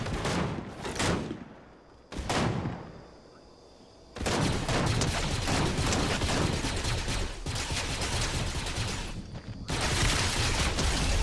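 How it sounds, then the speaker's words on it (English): A laser rifle fires in the video game Fortnite in loud, sustained volleys of rapid shots, first as short bursts and then as a long continuous barrage close up, with no voices. "I got you with the laser rifle too"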